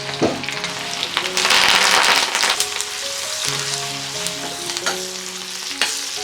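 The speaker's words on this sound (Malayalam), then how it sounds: "ഇനി കടുകൂടെ ഒന്ന് വറുത്ത് ചേർക്കട്ടെ." Mustard seeds fry in a pan for a tempering, a loud crackling sizzle with a dense spitting burst that settles into steady frying, punctuated by scattered pops and clinks.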